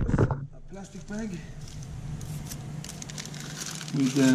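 A plastic bag crinkles and rustles in fairly close, intermittent handling during a front mud guard installation, with a person talking over much of it.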